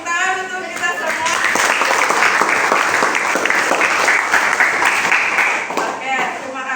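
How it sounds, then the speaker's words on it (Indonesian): Classroom students and teacher clap together at the end of a school lesson, a loud, dense burst of applause lasting several seconds, with voices briefly heard at the start and finish. "Tepuk tangan untuk kita semua."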